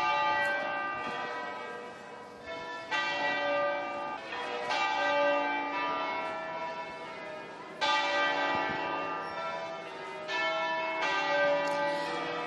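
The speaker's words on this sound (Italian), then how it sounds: "Le campane delle chiese del centro hanno suonato in segno di lutto" Church bells in the centre of Chiavari toll in mourning, with several overlapping loud metallic strikes ringing out and decaying in a slow, irregular rhythm, heard alone without speech.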